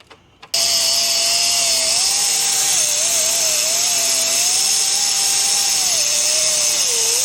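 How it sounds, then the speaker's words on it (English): A die grinder cuts into a rusty farm truck frame, a loud, steady high whine that starts abruptly after a brief knock and runs unbroken with slight pitch wobbles. "I got my die grinder and I got my headlamp, so I'm gonna cut that one and that bottom one"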